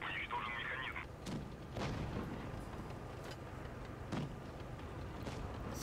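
Tank cannon shots fire in World of Tanks Blitz, with a few sharp booming blasts spaced over a few seconds against a steady engine rumble and battle ambience.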